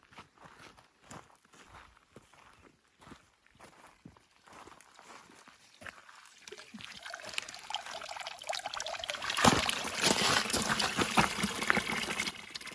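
Water trickles at a homestead water hole, a few footsteps first and then a steady, close, rising flow of running water with no talk.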